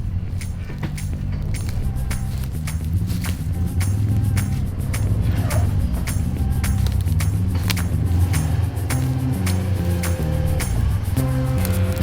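A rig's engine idles steadily nearby, a low continuous rumble with mechanical ticking and clatter over it, and no talk.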